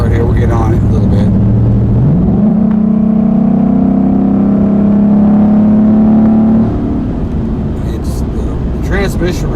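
A car accelerates hard from inside the cabin, its engine note climbing steadily, then a gear change and a settling drone under close, continuous talk.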